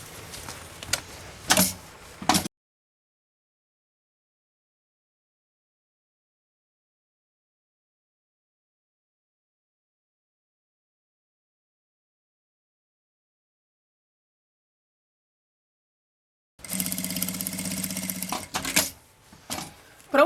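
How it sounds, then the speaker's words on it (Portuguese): A sewing machine top-stitches all the way around a handmade bag with its strap raised, running in two short mechanical bursts separated by a long stretch of silence. "E aqui agora eu vou rebater uma costurinha meio pé de máquina aqui"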